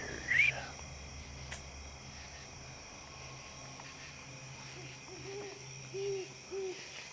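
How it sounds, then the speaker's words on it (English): A couple of soft, distant owl hoots over a quiet night background of faint hiss and low hum, with a brief sharper call near the start. "I hear you, Hoot Owl. I hear you."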